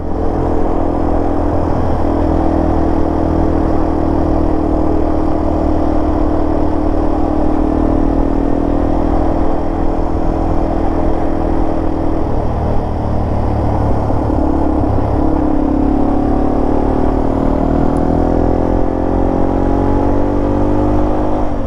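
A Yamaha TW200 motorcycle is being ridden. Its single-cylinder engine hums loud and close in a continuous drone, with a couple of brief throttle dips and a rising rev as it pulls through the gears toward the end.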